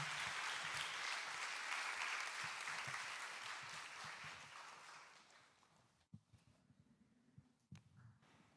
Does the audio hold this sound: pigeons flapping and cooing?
no